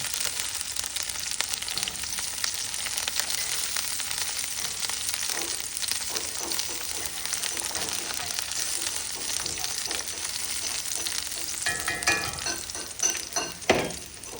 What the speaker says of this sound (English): This is the second fry, guys.